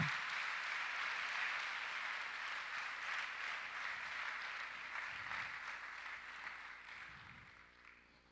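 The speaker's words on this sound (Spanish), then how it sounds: "Démosle un aplauso a nuestro Dios fuertísimo." A church congregation claps steadily, a soft, even wash of applause that slowly fades out toward the end.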